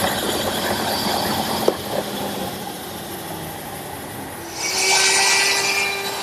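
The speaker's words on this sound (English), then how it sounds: "I bring the wheel towards the stop, into the sandpaper, and then spin it around, giving me a perfect circle" Wooden wheel being sanded round against the sandpaper of a power sander, a steady motor hum with a higher grinding whine rising in the last seconds as the wheel is spun against the abrasive.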